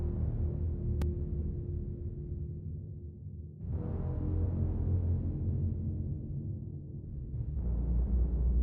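An isolated bass stem split from an AI-generated music track, playing a deep sustained bass line in long held notes with a brief dip between phrases and no voices.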